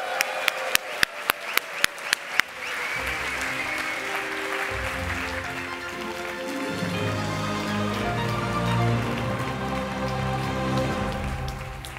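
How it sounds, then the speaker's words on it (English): Applause from a conference audience at The Network State Conference 2023. A few sharp, separate claps quickly swell into sustained, dense clapping that carries on under musical tones. "give a thunderous round of applause and a huge warm welcome"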